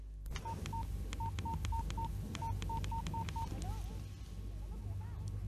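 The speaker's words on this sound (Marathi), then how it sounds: "बाबांनाच फोन करून कळवते" A telephone number is dialed as a rapid series of about a dozen short touch-tone beeps in an uneven rhythm, set in a Marathi radio drama, over a steady low background hum with faint murmuring.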